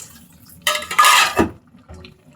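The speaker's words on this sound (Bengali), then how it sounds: "ভেজে রাখা ট্যাংরা মাছগুলোকে আমি এখন দিয়ে দিচ্ছি।" Fried tengra fish tipped into a pan of gourd (lau) curry, a brief clatter and splash lasting under a second against a quiet kitchen background, with no talking.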